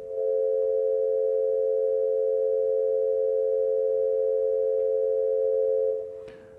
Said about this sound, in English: And we can put that within a 10 to 12 to 15 minor triad.